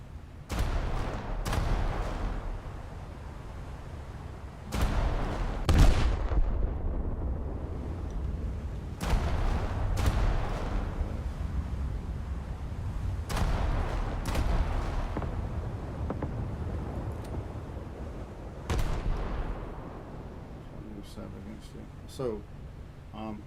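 Naval guns firing high-explosive shells in War Thunder, heavy booming shots going off one after another at irregular intervals over a low rumbling battle backdrop.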